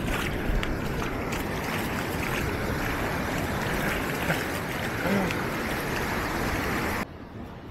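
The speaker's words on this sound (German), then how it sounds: "Ah, guckt euch mal die Wellen an." Surf rolls and breaks steadily on the beach at Playa El Balsamar in El Salvador, a popular surfing spot with high waves, a dense continuous roar up close that cuts off near the end.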